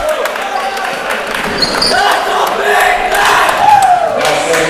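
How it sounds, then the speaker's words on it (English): Gym crowd of Red Deer and St. Thomas supporters at a Canadian men's volleyball championship match, a continuous roar of voices and cheering with occasional shouts, fairly loud throughout. "you guys might be hearing a little noise from the crowd"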